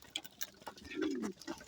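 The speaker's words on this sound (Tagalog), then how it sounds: "Ito yung ating precious na ibon natin." Soft pigeon coos, a low rolling murmur in the middle, among light chirps and scuffling from hungry pet pigeons, close by.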